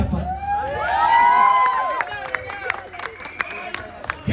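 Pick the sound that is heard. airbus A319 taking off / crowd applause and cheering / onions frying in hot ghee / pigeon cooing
crowd applause and cheering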